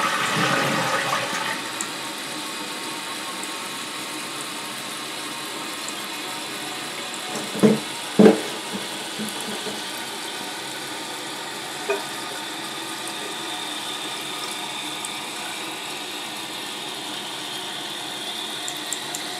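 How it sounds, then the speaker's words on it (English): A Gerber toilet with a new flapper (model 99-788) flushes in a loud rushing burst, then drains and the tank refills with a long steady hiss of running water, punctuated by a couple of sharp clunks. "I'm going to flush it, let it completely drain, refill"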